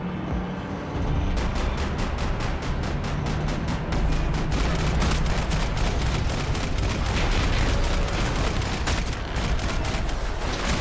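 Rapid gunfire in the Max Payne 3 video game: dense, loud bursts of shots that quickly become a continuous barrage of sharp cracks over heavy booming, sustained for about ten seconds.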